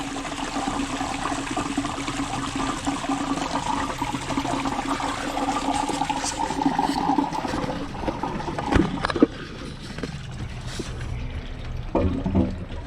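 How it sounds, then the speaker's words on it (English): Water rushes steadily from a loose, leaking joint in garden pond tubing, a loud continuous gush that sputters and gurgles unevenly toward the end. "Water came in rushing from here."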